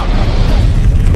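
Energy cannon firing at Gaia in the animated film Final Fantasy: The Spirits Within, a heavy booming blast with deep rumbling low end that rolls on loudly before cutting off abruptly.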